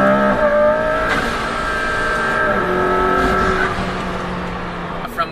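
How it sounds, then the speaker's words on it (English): McLaren P1 hybrid supercar revving up close and loud, engine pitch climbing in steady sweeps with a high shrieking wastegate whine layered over the rising note, tapering off near the end. "Wastegate noise is awesome. It's got a great shriek to it."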